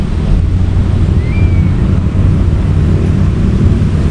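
Strong wind over a rice paddy roars loudly and continuously against the microphone, a heavy low rumble throughout.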